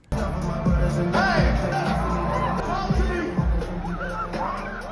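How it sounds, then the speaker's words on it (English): A large outdoor festival crowd at the Wireless Festival reacts during a live comeback performance, a loud continuous roar of cheering, singing and whoops with music underneath throughout. "let me know what you think of the crowd's reaction to it"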